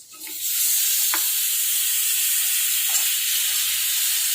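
A large tomato sizzles in a hot pan of oil with turmeric for a vegetarian soybean curry. After a brief stir clink, a steady, loud frying hiss fills the rest, with no talking.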